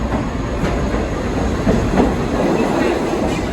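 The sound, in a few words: New York subway train running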